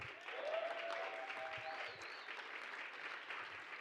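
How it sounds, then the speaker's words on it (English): An audience at a global cocktail competition semi-final in San Francisco applauds, a dense, steady wash of clapping that holds evenly throughout, with a faint whistle early on. "Big round of applause for everyone who went yesterday"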